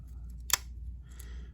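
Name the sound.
scissors on Victorinox Swiss Army knife snipping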